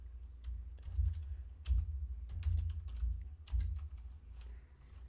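Someone types on a worn computer keyboard during a game jam livestream, with close, uneven bursts of keystrokes and short pauses between them, and no talking.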